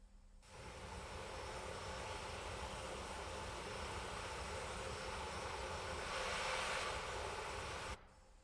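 A Boeing 737 engine start inside a flight simulator game: a steady, loud jet whine and broadband roar holding for about seven seconds, swelling slightly near the end before cutting off abruptly.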